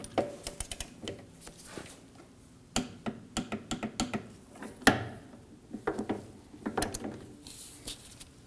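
Sharp metallic clicks and ratcheting taps from a torque wrench tightening running board motor bolts on a 2009-2014 Ford F-150, irregular bursts of close, quiet clicks separated by short pauses.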